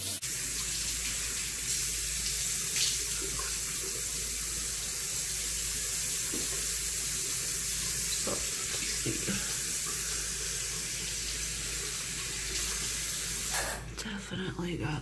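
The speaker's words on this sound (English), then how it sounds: "I'm just like rinse my face off" Steady hiss of tap water running into a bathroom sink while a face is rinsed, continuous and close for about fifteen seconds, with a clatter near the end.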